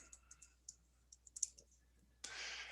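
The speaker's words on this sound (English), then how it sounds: "type in crosshatch" A few light taps on a computer keyboard sound faint and scattered, irregular clicks that give way to a short burst of hiss at the end.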